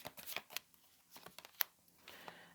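A tarot card being drawn from a deck during a reading, heard as soft, close rustles and slides of card stock with a couple of crisp flicks, all quiet and with no voices.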